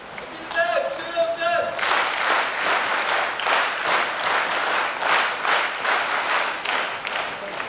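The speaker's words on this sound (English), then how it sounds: "For NCC claps." Loud, dense applause from a school audience at a Sainik School Toastmasters grand finale, honouring the NCC cadets; it bursts in after a brief voice at the start and carries on steadily throughout.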